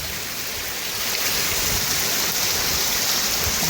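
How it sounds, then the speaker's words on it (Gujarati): Heavy rain falls in Ranpar village, Bhanvad taluka, Devbhumi Dwarka district, as a steady, dense hiss that builds slightly after the first second and holds evenly, with no voices. "લાઈવ વરસાદ ચાલુ"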